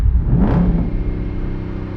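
A 2023 Dodge Charger RT V8 revved while out of gear, a loud, close engine swell that rises quickly and then settles into a steady rumbling idle.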